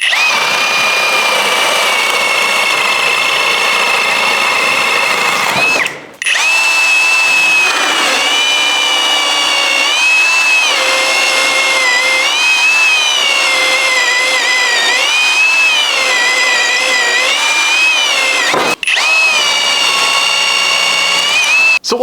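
A Hercules 20V brushless variable-speed right-angle drill runs with a loud, high whine that rises and falls with trigger speed, cutting out briefly twice before spinning up again.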